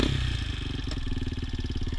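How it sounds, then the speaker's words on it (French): A quad bike's engine revs hard and pulls away as the clutch is released, a loud, close, steady pulsing motor note with a brief clatter near the start and no talking. "vous mettez un coup d'accélérateur et vous lâchez l'embrayage et le quad il va partir"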